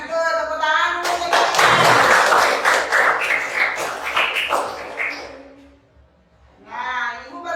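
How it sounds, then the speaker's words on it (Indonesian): Classroom students clap their hands together in a loud, fairly brief burst of scattered claps, bracketed by a teacher's voice before and after. "tepuk tangan dulu"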